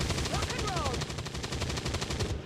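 Rapid automatic gunfire from the turn-based strategy game XCOM 2, a fast, evenly spaced burst of shots, loud and continuous for a couple of seconds before cutting off.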